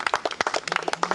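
Brisk, rhythmic hand clapping from a congregation at a church baptism, a quick burst of close claps lasting about a second.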